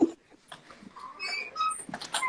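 A dog makes whiny, squeaky noises heard faintly over a phone line, brief thin whimpers and yelps scattered across a few seconds.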